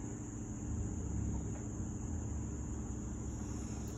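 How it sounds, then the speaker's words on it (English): Passing car traffic makes a steady low rumble outdoors, with a continuous high-pitched katydid drone running alongside it. "There's some noise from the cars"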